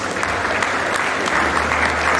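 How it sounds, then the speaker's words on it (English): A dense burst of clapping from a crowd at a memorial lecture, steady and loud throughout with no pauses. "Please a round of applause."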